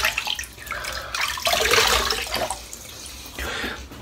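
Bathroom tap running while the face is wetted for a shave, a close, rushing splash of water in uneven surges as hands cup and splash.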